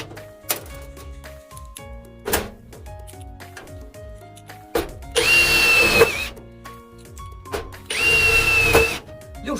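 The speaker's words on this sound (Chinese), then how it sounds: "最后我们再测试一下最简单的钻尾丝" Shida 60Nm cordless lithium drill driving self-drilling screws, with short clicks and handling knocks at first, then two loud whirring bursts of about a second each as the screws bite in, close to the microphone.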